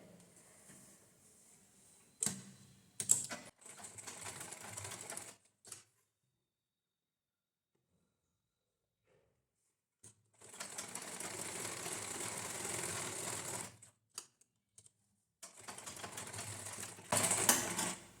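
An electric sewing machine stitches folded blouse lining in separate runs. Each burst is a steady whirring hum lasting a few seconds, and quiet gaps and brief clicks fall between them.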